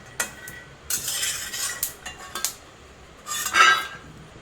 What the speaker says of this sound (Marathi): आपले शेंगदाणे खरपूस भाजून झालेले आहे आता मी प्लेटीत काढून घेत आहे